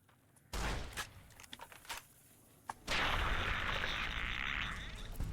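Shotgun blasts at bloatflies in Fallout: New Vegas, several sharp loud reports spaced a second or so apart, followed by a sustained bright hiss and rumble.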